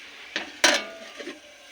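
A lid is set onto a cooking pot after water has been added: a light clink, then a louder, sharper metallic clank, close by with no talking.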